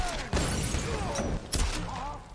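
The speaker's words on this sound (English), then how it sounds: "I shot him 3 times." Gunshots from the Tomb Raider video game sound as a few heavy, booming blasts over loud game noise and music, close and punchy, with a voice briefly audible.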